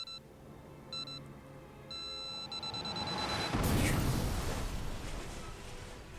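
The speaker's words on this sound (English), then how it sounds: "And then the bomb exploded." A bomb explodes in the video game 428: Shibuya Scramble. Tonal electronic beeps come first, then a loud deep blast that swells into a long rumbling roar and slowly fades.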